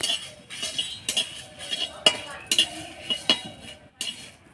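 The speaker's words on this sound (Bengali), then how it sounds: "জাবিত্রী হালকা আছে নাড়াচাড়া করে ভাজে নিব" A spoon stirs whole spices, bay leaf, coriander, crushed nutmeg and mace, in a metal pot, giving a series of light, close metallic clinks and scrapes at an irregular rhythm over quiet frying.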